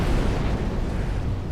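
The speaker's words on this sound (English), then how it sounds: "Their explosion will kill you greatly." Borg ship blowing up in the Star Trek Online video game: a dense, sustained roar of low rumbling explosion noise that stays loud and steady throughout, with no talk.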